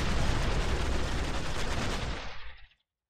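Heavy gunfire in Dawn of War, a dense continuous barrage of loud overlapping shots that cuts off abruptly near the end.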